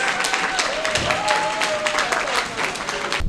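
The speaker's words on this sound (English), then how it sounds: "give her a round of applause" Steady applause from a crowd at a community celebration fills the whole stretch, dense clapping with a faint tone drifting underneath.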